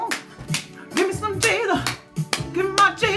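Hands clap in a loose, uneven rhythm of sharp smacks, with a voice speaking between and over the claps.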